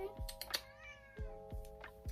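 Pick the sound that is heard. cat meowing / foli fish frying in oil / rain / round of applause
cat meowing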